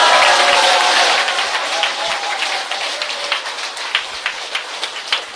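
An audience applauding at a gathering, dense clapping loud at first, then thinning and fading into scattered individual claps toward the end.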